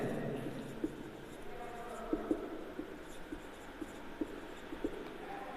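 Pen strokes on paper while a class six math solution is written out, giving soft, irregular scratches and taps close by, with faint voice-like sounds in the background.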